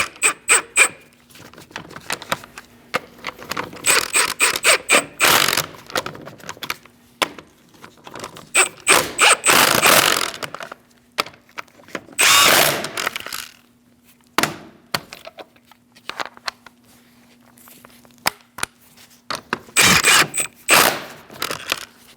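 A power tool tightens the wheel nuts on a 2000-2006 Mini Cooper in a crisscross pattern, loud close bursts of rattling impact separated by quiet gaps, with scattered clicks and clatter between runs.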